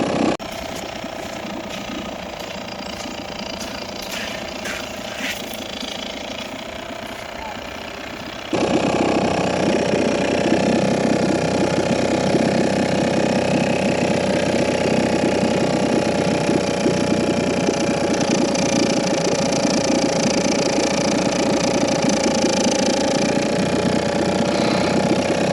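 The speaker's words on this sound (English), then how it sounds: "I don't even want to use all 2 horsepower of this motor." A 2 horsepower outboard motor drives a tippy dugout canoe, its steady buzzing drone running throughout, quieter at first and then louder and fuller after a sudden step up, with no talking.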